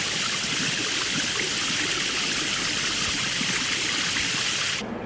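A shower running steadily, a loud continuous hiss of spraying water that cuts off abruptly near the end.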